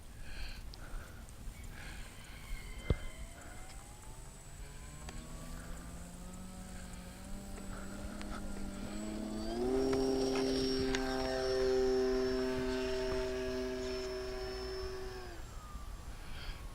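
The electric motor of an AP38 Apprentice S 15e RC airplane spools up for takeoff with a rising whine that climbs in pitch, peaks, and then holds near the listener as the plane leaves the ground.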